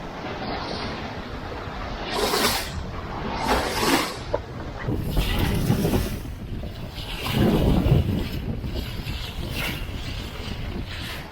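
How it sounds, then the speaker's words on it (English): A sailboat on a solo passage off Baja California moves through the sea with steady wind rush against the microphone, rushing water, and periodic louder swooshes of waves along the hull. "Pretty sweet day sailing."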